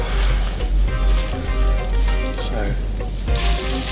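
Spinach and mustard seeds sizzling in hot oil in a pan, a close, crackling hiss with rapid spitting pops and bursts that rise and fall over about four seconds.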